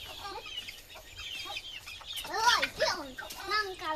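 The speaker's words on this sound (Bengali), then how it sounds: "এই মুরগির একটা বাইরে চলে গেল।" Backyard chickens cluck as they are herded in and one wanders outside, with a series of nearby throaty clucks and squawks growing louder midway, rising and falling irregularly.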